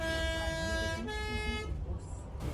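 A bus horn blares twice on a Swiss mountain road between Grosse Scheidegg and Interlaken: a long, loud multi-tone blast, then a shorter second blast after a brief break, followed by quieter open-air background.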